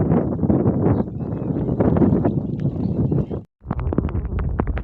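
Strong wind blasts across the microphone outdoors during rain near floodwater where fishing nets are set. Loud, rough buffeting roars almost without pause, cuts out briefly near the end, then comes back in sharp gusts.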